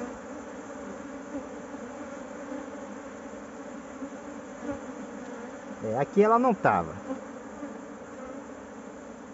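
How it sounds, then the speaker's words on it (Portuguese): A swarm of honeybees settled in a tire buzzes steadily, with a louder, closer burst of buzzing midway as bees fly near; a person speaks briefly. "Já tem muita abelha aqui, ó."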